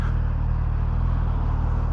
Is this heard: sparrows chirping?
no